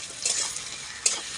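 Potatoes frying in hot oil in a wok, a steady soft sizzle running throughout, with a few brief louder clinks or stirring scrapes against the pan and no talk.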